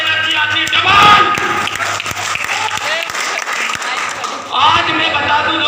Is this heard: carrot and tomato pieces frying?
no